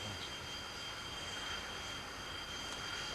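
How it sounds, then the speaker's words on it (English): A large aircraft rolls in toward its stopping point on an RAF airfield. Its jet engines hold a steady, even roar with a thin high whine on top, moderately distant and constant throughout. "That's presumably the spot where the plane is going to come to its final halt."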